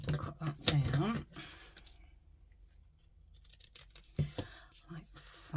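Scissors snip through fabric in a few short crisp cuts, close and fairly quiet, mixed with soft handling rustle and a voice speaking nearby.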